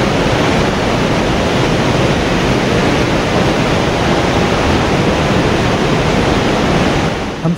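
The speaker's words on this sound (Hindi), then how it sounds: "यमुना नदी काफ़ी तेज बह रही थी।" Fast-flowing Yamuna river near Yamunotri in the Himalayas, a loud, steady broadband rush of churning water that holds constant throughout, close and continuous with no voices.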